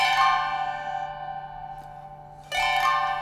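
A sustained, bright drone from a Danelectro electric sitar guitar with sympathetic strings rings with shimmering resonant overtones, fading slowly before a fresh strike brings it back loud near the end.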